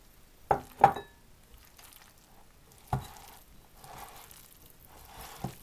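Lenten salad of carrot with onion, cucumber, peas and beans being stirred in a bowl: a few close clinking scrapes of a spoon, two quick ones near the start, then another and softer mixing sounds.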